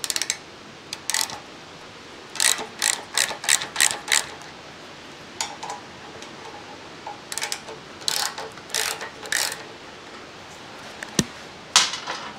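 A ratchet loosens bolts on the fork of a Yamaha 100 Trailmaster, clicking in quick bursts of several strokes with pauses between, close and crisp over a quiet workshop background.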